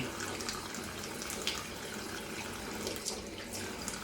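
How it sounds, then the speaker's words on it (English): A tap runs into a sink at a bathroom shaving station, producing a steady, quiet, continuous hiss of flowing water with no interruptions. "That water going."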